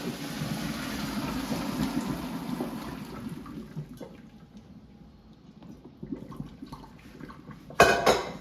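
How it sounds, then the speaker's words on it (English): Blanched green beans and their hot water pour into a colander in a kitchen, giving a steady rushing splash for several seconds that tapers off, then a sharp metallic clatter near the end. "now I'm going to drain them in a colander"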